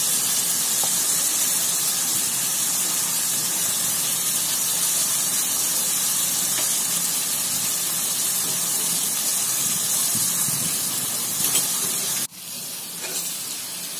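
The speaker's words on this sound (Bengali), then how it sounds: "এবার আমি যে পেঁপেগুলো কেটে সেদ্ধ করে নিয়েছিলাম সেই সেদ্ধ করা পেঁপেগুলো আমি এতে দিয়ে" Boiled papaya pieces go into a pan of frying onions and sizzle with a loud, continuous hiss that holds steady before a sudden drop near the end. No one speaks.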